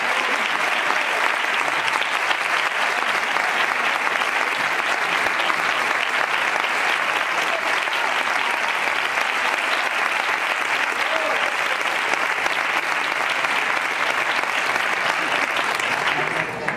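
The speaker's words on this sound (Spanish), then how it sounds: "un fuerte aplauso también" Sustained, dense applause fills a hall as a second prize is presented at a national young flamenco artists' competition, loud and unbroken at a steady level throughout.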